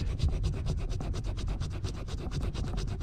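Sandpaper rubbing steadily over a jobsite boot toe protector, a close, continuous back-and-forth scratching with a quick regular stroke rhythm throughout.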